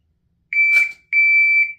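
A shot timer gives two sharp electronic beeps during pistol draw practice, each lasting about half a second, loud and close, with a brief burst of handling noise between them.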